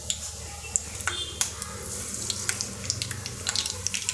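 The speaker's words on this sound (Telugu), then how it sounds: "ఆవాలు చిటపటలాడిన తర్వాత ఇప్పుడు మనము కొంచెం జీలకర్ర వేసుకోవాలి" Mustard seeds spluttering in hot oil while tempering for a fasting-day dish, giving sharp irregular pops and crackles over a steady sizzling hiss, close and fairly loud.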